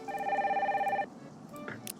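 A telephone rings in the Nancy Drew video game, one steady electronic warbling ring lasting about a second, followed by a quiet room, a soft click and a short bright rustle.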